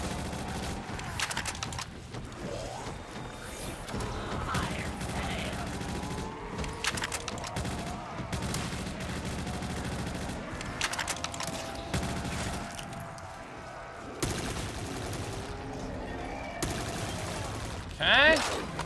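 Bursts of automatic fire from an MP4 in Call of Duty Zombies rattle throughout, fairly quiet under a busy game soundscape of effects and music.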